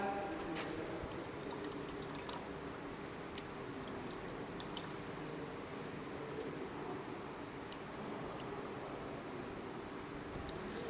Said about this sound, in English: Just we have to clean with water.